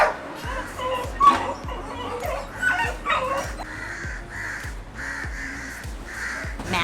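Dogs bark sharply and repeatedly at a monkey they chased up a tree in Malaysia, keeping a steady, insistent rhythm. Crows caw loudly over the barking, and faint whimpers join in outdoors.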